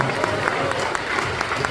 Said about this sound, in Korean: 우리 차관님께 박수 한번 하겠습니다